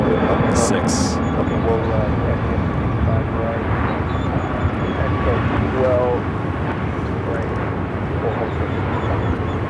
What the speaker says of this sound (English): We do have that Delta A350-900 coming in from Detroit.